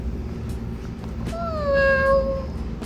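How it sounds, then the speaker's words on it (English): A house cat gives one clear rising and falling meow, close and distinct, over a low steady hum of background noise indoors. "cat"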